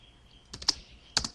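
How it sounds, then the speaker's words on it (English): Keys on a computer keyboard clack in two quick bursts, a few crisp taps each, close and clear against a quiet room, with the second cluster likely including the enter key. "After we're done typing the select statement, I'm going to hit enter."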